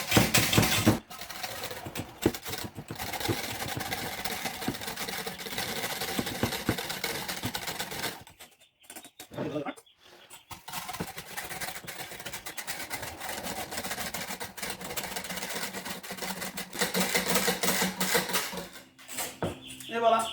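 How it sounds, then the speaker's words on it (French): A metal whisk stirs honey into water, giving a steady run of faint, rapid clinks and scrapes against the container, with a couple of brief pauses. "j'aime bien utiliser le fouet parce que ça mélange très bien pour aller dissoudre"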